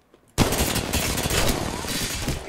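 Gunfire in the video game Apex Legends bursts in suddenly as a sustained, loud rapid automatic volley that continues without pause to the end.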